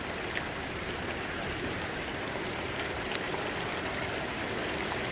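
A heavy storm pours down with marble-size hail, a dense, steady roar of rain and hail striking surfaces continuously at close range with no voices.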